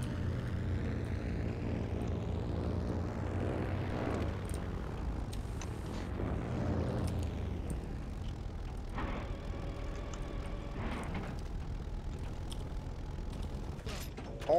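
Propeller engine of a Yak-9 fighter plane in the game Heroes and Generals, a steady droning hum with creaking mechanical tones and gear-like ratcheting, continuous and fairly even throughout with no talking.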